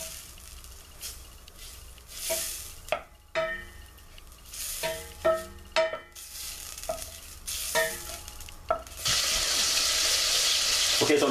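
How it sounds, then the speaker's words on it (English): Margarine or butter melting in a pan: intermittent clinks and scrapes of stirring give way to a steady, bright sizzle that fills the last couple of seconds, quiet and close. "your margarine or butter. And we're going to let that melt."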